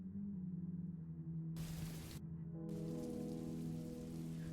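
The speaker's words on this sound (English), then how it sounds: "No thunder, just rain." Steady rain with no thunder, a continuous hiss of drops on a surface that swells into a louder, brighter downpour partway through, with a low hum running underneath.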